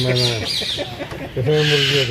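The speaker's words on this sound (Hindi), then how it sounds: "मुर्गी है मुर्गा ये मुर्गा सब घरे है" Chickens and a rooster in a zoo enclosure cluck and call in short repeated bursts, close and clear, with people talking nearby.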